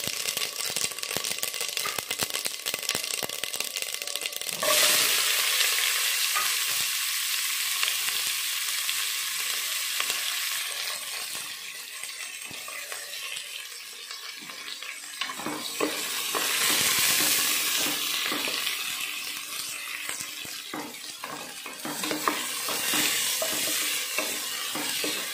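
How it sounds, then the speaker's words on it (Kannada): Onions frying in oil for sambar, a steady loud sizzle with frequent scraping and clattering as they are stirred in the pan, rising and falling in intensity throughout. "ಚೆನ್ನಾಗಿ ಕೆಂಪಾಗೋರ್ಗೆ ಫ್ರೈ ಆಗಬೇಕು ಈರುಳ್ಳಿ"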